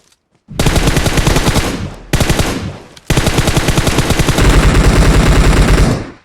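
Sustained automatic gunfire in PUBG Mobile, loud and close, in long rapid bursts with two brief pauses, no talk over it.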